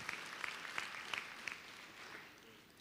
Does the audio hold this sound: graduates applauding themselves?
yes